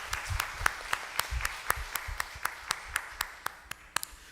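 A church congregation applauds during a Sunday morning worship service, a steady run of sharp, distinct claps at a moderate distance, fairly soft overall, without voices over them.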